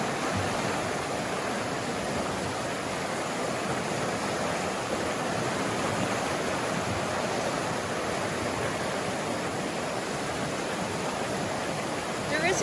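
A fast-flowing, overflowing river in the Tom Groggin highlands roars as a steady, dense rush of water for the whole stretch, fairly near and unbroken, with no voices.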